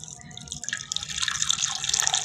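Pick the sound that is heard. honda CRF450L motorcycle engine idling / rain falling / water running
water running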